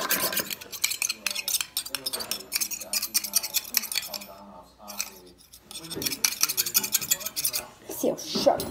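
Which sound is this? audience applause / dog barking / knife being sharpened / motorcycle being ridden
knife being sharpened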